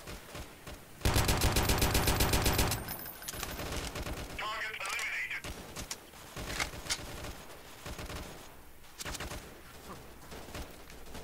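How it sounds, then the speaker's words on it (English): Gunfire in the shooter game Freeman: Guerrilla Warfare: a loud, rapid automatic burst for roughly two seconds, then scattered quieter shots and distant firing continuing in the background. "I can't see where they're shooting from."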